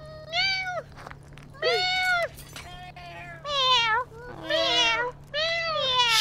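Players in Rust voice chat imitating cats with five or six loud, drawn-out meows in a row, close and clear over a faint background hum.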